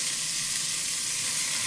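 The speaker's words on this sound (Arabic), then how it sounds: "هنزل باللحمه. اهم حاجه في اللحمه الطش" Meat sizzling hard in a hot pan, a dense, even frying hiss heard close and alone for a couple of seconds.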